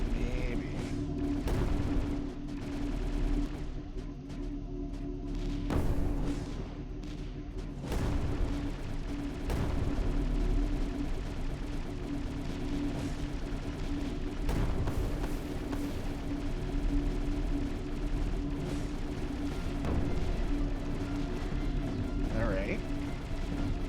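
Cannons fire in the strategy game Creeper World 4, sending repeated sharp booms and crashing impacts in an irregular rhythm over steady droning game ambience, with someone talking throughout.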